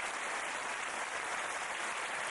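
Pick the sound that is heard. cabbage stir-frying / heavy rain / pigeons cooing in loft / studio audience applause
studio audience applause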